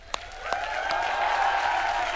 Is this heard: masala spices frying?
no